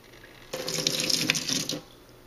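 A short gush of water drains and gurgles through a small hole for about a second, close by, then stops, leaving faint background hiss.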